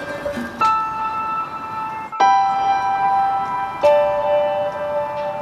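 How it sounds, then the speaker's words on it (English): Stoneberg piano imported from Germany, played in a studio: three separate chords struck roughly a second and a half apart, each ringing and sustaining clearly before the next, close and moderately loud with no talking. "this here is our piano. It's called a Stoneberg, and it was actually imported from Germany about 10 years ago"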